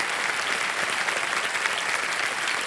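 A television quiz-show studio audience claps loudly and continuously, a dense, even burst of applause with no voices over it.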